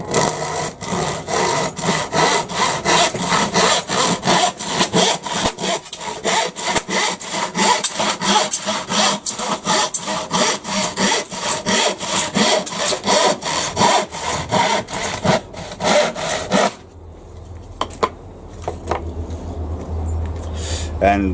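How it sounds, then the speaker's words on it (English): A handsaw cuts through wood with fast, rhythmic back-and-forth rasping strokes, loud and close, then stops and gives way to quieter handling noises. "so I'm just going to use a handsaw."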